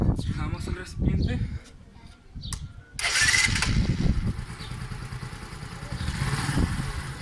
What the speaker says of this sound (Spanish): Cerraremos y seguiremos a prender la motocicleta.